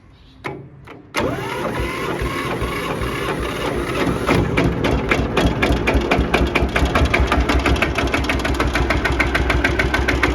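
A vintage tractor diesel engine over 60 years old starts after a few short clicks, catching abruptly and settling into a loud, steady knocking idle with a rapid even beat close by.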